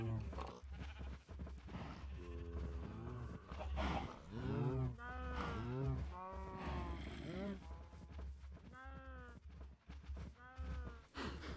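Cows mooing in Minecraft, several drawn-out game-animal lows in a row, loud and close, with a few bleat-like calls and steady background noise.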